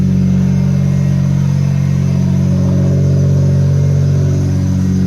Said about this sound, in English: The idle's a lot better. No more surging.